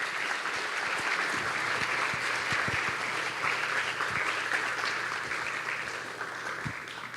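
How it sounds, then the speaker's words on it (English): A crowd claps steadily for Barbara Hendrie at a Hamptons Institute talk on plastics pollution at Guild Hall, a dense, sustained wash of applause that tapers slightly toward the end, with no voices over it. "More applause, please, for Barbara Hendrie."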